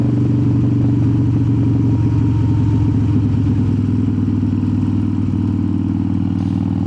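A 2003 Harley-Davidson Softail Standard cruiser runs with a loud, steady, deep rumble that stays even throughout, close by, with no talking.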